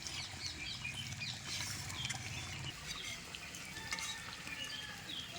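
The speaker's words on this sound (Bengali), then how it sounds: "এই তিলটাও এই ময়দার ভিতরে দিয়ে ভালো করে আবার মেখে নেব" Flour dough for sesame kachori being kneaded by hand with white sesame seeds worked in, giving a soft, steady squishing and patting texture at close range with no talking.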